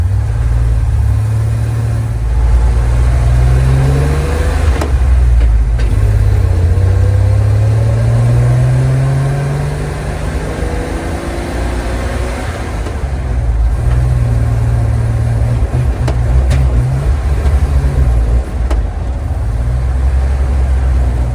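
A 1969 Chevy C30 truck engine runs close and loud while losing fuel pressure, its steady rumble rising and falling in uneven revs and sags throughout, with no talking.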